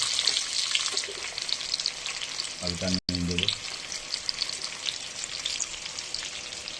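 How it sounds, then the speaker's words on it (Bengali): Potatoes fry in a pan tempered with cumin seeds and dried red chilli, giving a continuous close sizzle and crackle, with someone speaking briefly over it midway. "এবার আলুটা ভেজে নেবে"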